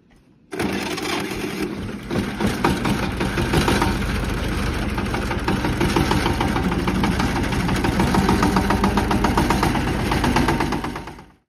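A Tibetan man's tractor engine, running hot, starts up and chugs loudly and continuously at close range with a rapid knocking rhythm, with no talk.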